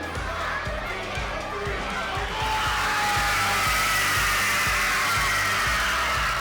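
A room full of people at a school character education night erupting in loud, continuous cheering and screaming, rising sharply partway through with music or a beat thumping underneath.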